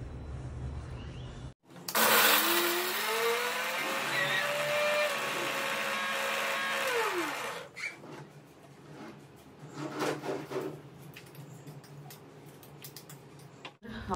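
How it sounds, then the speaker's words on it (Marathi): Mixer grinder blending roasted coconut, garlic, ginger, onion and coriander into a mutton masala; after a short pause the motor roars loud and close for about six seconds with a rising whine, then winds down, followed by quieter clatter and handling. "तो बारीक करून घेऊयात मिक्सरला पहिले"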